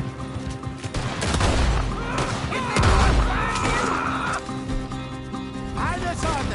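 Gunshots crack out during a horseback shootout in the video game Red Dead Redemption 2, a few loud bursts and impacts clustered together while a horse whinnies and a voice calls out over the chaos.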